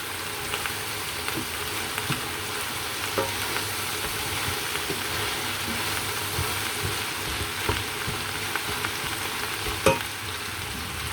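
Food pan-roasts in a hot pan, giving a steady close sizzle and hiss with occasional light stirring taps, continuous and fairly loud with no talk.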